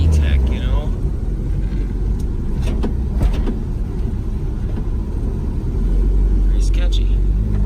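A Honda with a freshly installed B16A3 engine, running at night without headlights and with parts missing, drives around the block with a loud, steady engine rumble that swells toward the end, as faint voices come and go.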